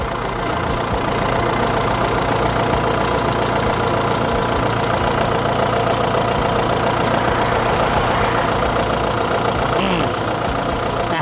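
A Kubota M6040SU tractor's 60 hp turbo diesel engine idles steadily and loudly up close, a continuous dense rumble with a faint knocking texture and no speech over it.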